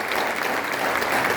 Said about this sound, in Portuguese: Vamos aplaudir mais forte?